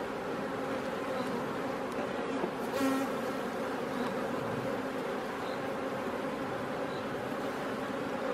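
Honeybees buzz steadily at an open hive during a cool-day inspection, a dense continuous drone from many bees close by with no voices.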